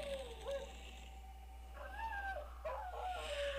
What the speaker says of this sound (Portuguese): Que barulho é esse? Barulho de cachorro